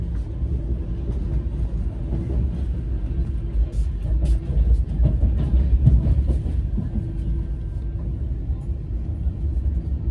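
A low, heavy rumble of the Garib Rath Express running through Ernakulam yard, heard from inside a coach as a steady drone with occasional clanks and rattles.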